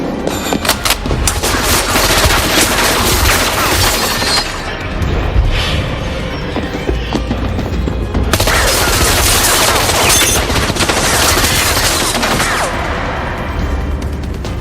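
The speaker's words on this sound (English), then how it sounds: "Archer opens fire." Loud, dense bursts of automatic gunfire fill a Face/Off 1997 film tribute, with rapid fusillades that pause briefly midway before another long volley and trailing shots.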